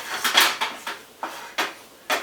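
Seasoned beans with salt and pepper stirred in a pan on a home kitchen stove: a spoon scrapes and clacks against the pan in several uneven strokes, close and fairly loud, with no talking.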